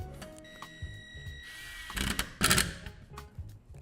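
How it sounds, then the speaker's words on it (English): A triangle mounting plate for an ENS Security Lysora CPE5 wireless bridge is screwed onto a wall, giving a short burst of ratcheting, whirring tool noise with a few clicks, close up and with no talking. "Then you need to screw the triangle plate onto the wall"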